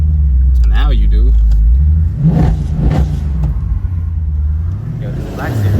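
A Mercedes-AMG Black Series sports car engine revs and rumbles up close, pitch rising and falling, with people talking over it.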